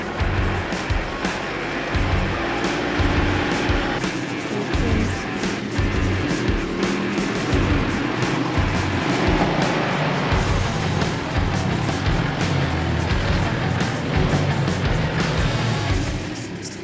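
A stock Mitsubishi Pajero crawls down sandy off-road hills, its engine rumbling low and steady while sand, suspension and body noises clatter and hiss throughout, loud and close from inside the vehicle.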